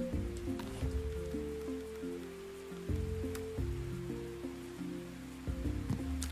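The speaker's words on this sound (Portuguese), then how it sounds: "Olha, tá chovendo." Rain falls steadily in the video game Roots of Pacha, a soft even hiss running under sustained low musical tones, with no talk.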